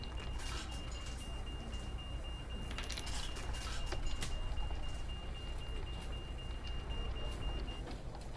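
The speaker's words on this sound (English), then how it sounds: "Not really sure what just happened with the middle door there. It's beeping away at me." A bus middle door warning beeper in the OMSI 2 bus simulator, a steady high tone holding for several seconds over the rumble of the idling bus and traffic noise.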